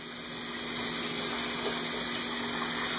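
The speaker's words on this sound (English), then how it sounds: "turn the water off, honey" Water runs steadily from a kitchen tap, a loud continuous gushing stream that holds unbroken for the whole stretch with no voices over it.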